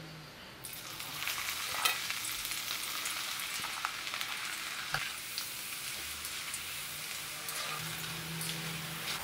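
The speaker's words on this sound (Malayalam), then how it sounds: "ഇനി അടുത്ത് നമുക്ക് കായ വറുത്തെടുക്കാം." Raw banana (plantain) slices frying in hot oil for homemade mixture, a continuous dense sizzle with fine crackles and occasional louder pops, steady and close throughout.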